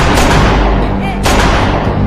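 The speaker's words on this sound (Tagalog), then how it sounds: "Nagpaputok din ng baril ang police chief, ngunit walang silbi ang mga bala laban sa kanya." A police chief fires a gun in a horror movie scene, producing loud sharp reports with a booming tail, one near the start and another at about one second, over a dense, noisy soundtrack.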